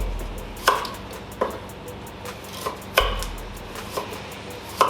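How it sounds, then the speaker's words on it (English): A knife slicing a carrot into rough 3mm rounds on a chopping board, giving six or seven crisp, evenly spaced chops close by with no talking. "Slicing it roughly on a 3mm thickness."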